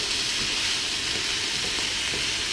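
Beef stir fry sizzling steadily in a hot pan as it is stirred, a dense continuous hiss with faint scraping, close and alone without talk.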